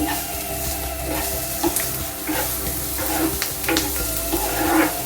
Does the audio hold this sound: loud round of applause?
no